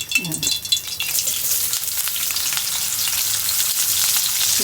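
Garlic and green chillies fry in hot oil for a chutney, giving a loud, steady hiss and crackle up close. Brief stirring clatter sounds at the start.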